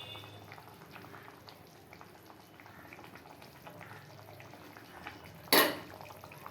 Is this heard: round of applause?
no